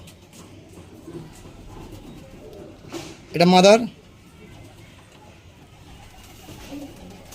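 Punjabi pigeons coo softly, with one louder, brief throaty call rising midway against a low background murmur while someone speaks nearby.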